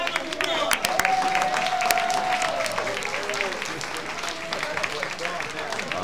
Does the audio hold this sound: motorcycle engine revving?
no